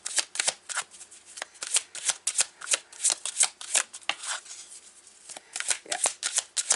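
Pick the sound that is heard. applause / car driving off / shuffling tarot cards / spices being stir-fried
shuffling tarot cards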